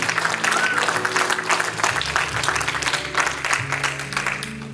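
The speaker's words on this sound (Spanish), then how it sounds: "Denle ese aplauso a nombre del Señor en esta hora" A church congregation applauds in the name of the Lord, with loud, dense clapping over a sustained organ or keyboard chord, while cheers and voices rise through the crowd.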